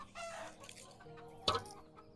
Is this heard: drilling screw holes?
no